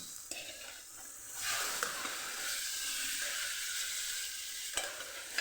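Rajma beans hit hot oil spiced with garam masala and sizzle steadily, a loud even hiss with a few clinks of stirring, close and alone.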